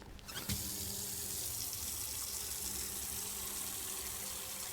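Tap water runs steadily into a sink in the game Autopsy Simulator, starting with a quick splash and then pouring as a constant, fairly loud stream with no one speaking.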